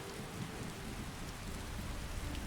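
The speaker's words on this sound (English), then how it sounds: "and of course it's still raining like hell out here." Heavy, steady rain pours down in the video game Skyrim, a dense continuous wash with a low rumble of thunder underneath, filling the whole scene without any voices.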